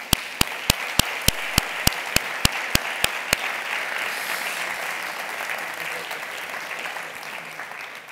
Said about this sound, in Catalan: Us hauria d'aplaudir.